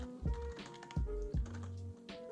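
Computer keyboard keys clack in quick bursts and short runs of taps while JavaScript code is typed, close and fairly quiet, with no talking.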